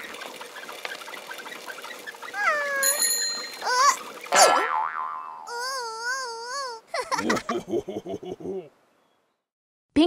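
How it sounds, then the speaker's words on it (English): A bicycle bell rings out in bright, quick chimes among playful cartoon-style sound effects in a children's educational game, then the clip drops into silence. "Pinkerton rings his bell when he passes people on his bike."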